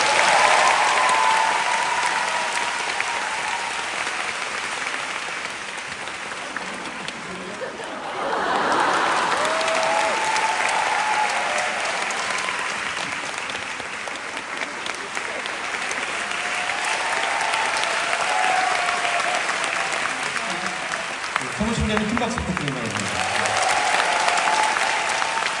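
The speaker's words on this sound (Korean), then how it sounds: "여러분 큰 박수 부탁드립니다." An audience applauding at a Korean Leukemia Children's Foundation ambassador and donation certificate event, sustained dense clapping from a large crowd that dips briefly and swells again, with a few voices heard amid it.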